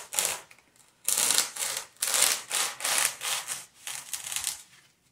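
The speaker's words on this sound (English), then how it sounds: "I'm not going to be cutting it at an angle because I need a flat bottom, so I will be cutting it straight across" A foam pool noodle from Dollar Tree is cut straight across in repeated rough sawing strokes, about eight scratchy bursts with brief gaps between them, close to the microphone.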